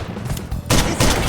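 Semi-automatic gunfire in the VR shooter H3VR, a sharp loud shot followed by a second blast about a third of a second later, both close and punchy.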